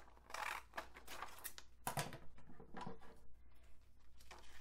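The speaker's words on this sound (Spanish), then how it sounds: "Vamos a cortar papel." Creative craft scissors cut through paper in a series of crisp, close snips and rustles, irregular in rhythm, with no talk.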